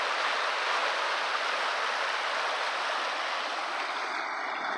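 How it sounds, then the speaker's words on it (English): The Chilliwack River in early March rushes past as a loud, steady broadband roar of fast-flowing water, close and continuous throughout. "The river's really rushing through there."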